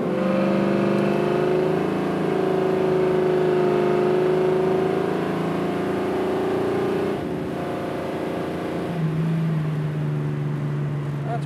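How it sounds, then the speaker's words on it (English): A 1968 Chevrolet Camaro with a 454 V8 pulls hard through a corner under light throttle, a loud, steady, close engine drone that rises in pitch and then eases off toward the end. "We'll give it a little bit of throttle here around the corner, see what kind of juice this 454"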